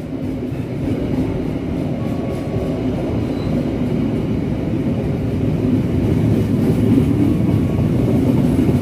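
The locomotive of the Argo Parahyangan train rolls past at a station, a loud, steady rumbling roar that holds throughout.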